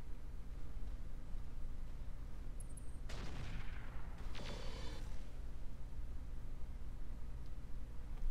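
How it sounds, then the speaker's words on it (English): Turret fire in the Roguetech mech game, two faint, brief crackling bursts a second apart over a steady low mechanical hum, distant and quiet, with no talk. "Somebody's turret or something."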